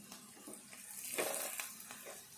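Ridge gourd curry fries in a pan in a Telangana home kitchen, giving a faint, steady sizzle and hiss with a few slightly louder bursts of crackle.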